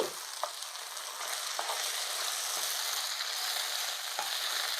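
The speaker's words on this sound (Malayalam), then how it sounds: "ഉള്ളി നല്ലതായിട്ട് വഴുന്നു മാറ്റിയിട്ട് മുട്ട ഇനി പൊട്ടിച്ചൊഴിക്കാം" Cracked eggs drop into onions frying in a pan, a steady broadband sizzle running throughout with a few soft taps and stirs breaking through, close and moderately loud, with no talking.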